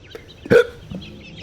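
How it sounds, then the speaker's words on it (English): A single sharp hiccup from a character in the video game The Stanley Parable, one clear burst in the middle of an otherwise quiet stretch, with a faint second sound shortly after. "Got the hiccups."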